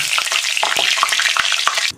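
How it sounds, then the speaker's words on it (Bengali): Cumin seeds and a bay leaf hitting hot oil for a vegetarian jackfruit and soybean curry, a loud, close, crackling sizzle with scattered pops and stirring clicks, cutting off sharply near the end. "তেল গরম হয়ে গেছে বন্ধুরা, জিরে ফোড়নে দেবো আর তেজপাতাটা দিয়ে দেবো ফোড়নে।"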